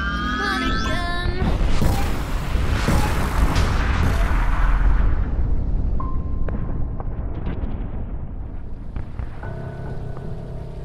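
In Minecraft, a deep, booming rumble of heavy cannon-like blasts swells and fades, followed by quieter electronic tones and lingering ambient noise.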